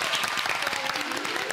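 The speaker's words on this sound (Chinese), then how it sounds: "给自己掌声鼓励一下" A studio audience on a Taiwanese game show bursts into brisk, loud applause for a team, dense clapping filling the whole moment without a break.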